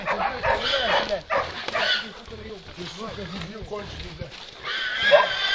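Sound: hunting laika dog barking

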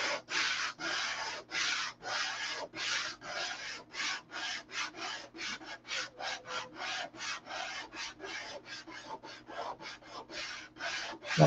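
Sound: hand sanding with sandpaper on a soft foam block

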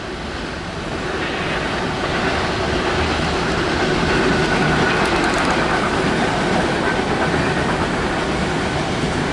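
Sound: Norfolk Southern northbound freight train passing

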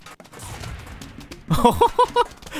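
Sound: Plants vs Zombies mod Chomper-Cherry fusion plant biting and exploding, video game

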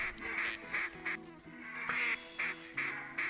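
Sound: ducks quacking in the video game TheHunter Classic

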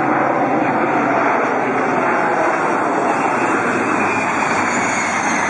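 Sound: aircraft engine

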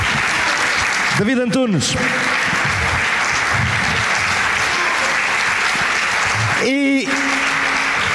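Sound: audience applause

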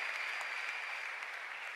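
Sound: congregation clapping for Jesus Christ

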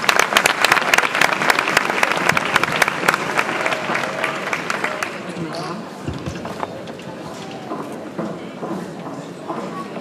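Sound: audience applause for singer

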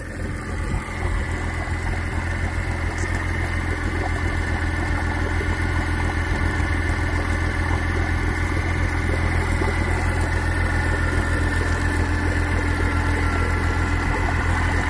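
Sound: outboard motor idling high

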